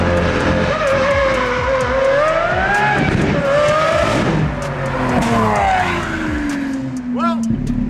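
A Lamborghini SVJ supercar at the Long Beach Grand Prix, its engine howling and rising through gears as tires squeal and skid, loud and close, with voices talking underneath and a bright chirp near the end.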